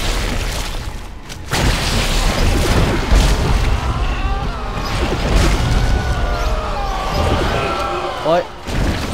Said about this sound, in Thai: ยิงนัดเดียวตัวแตก2ตัวเลย